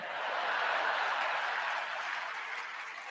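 A crowd at the 2024 Democratic National Convention applauds in a broad, steady wash of clapping that holds for a few seconds and eases slightly at the end, with no voices on top.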